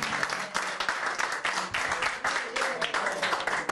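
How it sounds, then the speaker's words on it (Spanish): Applause at a day centre event for World Down Syndrome Day, a crowd clapping steadily and loudly for a few seconds with faint voices mixed in. "Un aplauso."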